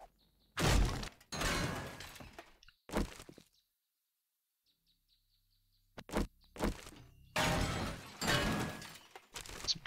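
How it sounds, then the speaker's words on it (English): A door being smashed down in the survival video game Desolation 2, heavy repeated crashing and shattering impacts in bursts separated by a quiet pause, loud and close. "Break down this door"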